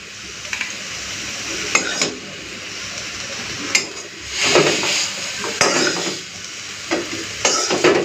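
Chapa note greens frying in a pan and being stirred, with a soft sizzle under intermittent scraping strokes of a utensil against the metal. No one speaks.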